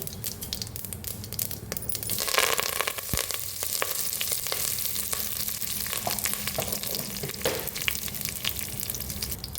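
Mustard seeds and curry leaves sizzle and crackle in hot oil for a South Indian brinjal gojju, a steady close frying hiss with scattered popping and clinking bursts throughout.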